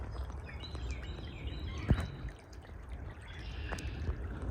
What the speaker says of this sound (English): down here we got a creek rolling through